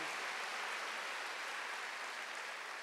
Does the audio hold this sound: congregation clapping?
yes